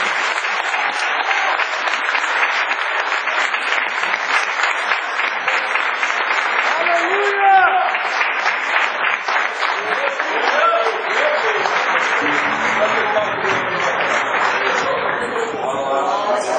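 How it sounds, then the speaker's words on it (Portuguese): A Pentecostal church congregation at an anniversary service claps steadily and loudly for a long stretch, with voices calling out and singing tones rising through the clapping before it thins toward the end. "Então dê um aplauso para Jesus."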